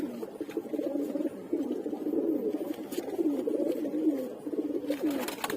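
Several pigeons coo steadily and close by while being held by hand, their low throaty calls continuous and overlapping, with brief rustles and flutters of wings breaking in now and then.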